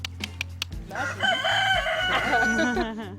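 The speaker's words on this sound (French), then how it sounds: "Après le chant du coq" A rooster crows in a barnyard, one long rising and falling cock-a-doodle-doo that stands out loud and close after a few short clucks.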